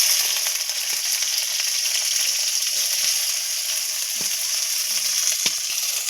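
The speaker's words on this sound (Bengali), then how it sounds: "কড়াই তেল দেওয়া হয়েছে, ভেজে নেবো অল্প করে" Okra fries in oil in a kadai, producing a steady close hiss of sizzling, broken by occasional light clicks and scrapes from stirring.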